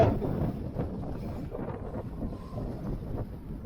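Strong wind buffets the microphone at a cold hilltop viewpoint in Coorg, a steady loud rumbling roar with gusty swells throughout and no voices.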